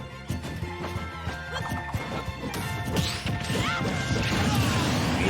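Up smash attacks thrown out repeatedly in a competitive fighting video game match, a rapid run of sharp crashing hits and whacks layered over busy game effects and a ringing background tone, loud and continuous.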